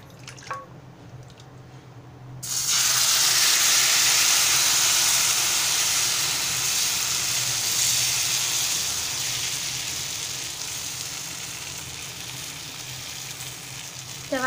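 Cucumber batter for Malvani ghavan spread on a hot oiled griddle gives a sudden loud hiss that settles into a steady sizzle and slowly fades, with no voices.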